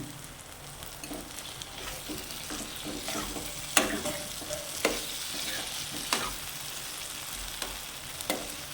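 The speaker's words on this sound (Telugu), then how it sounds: "ఆయిల్ వేస్తా, వేడి చేసిన ఆయిల్" Heated oil sizzles steadily in a pan while eggplant rice cooks, with occasional sharper crackles and stirring scrapes, close and alone without talk.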